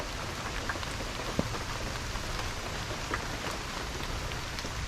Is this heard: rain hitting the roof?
yes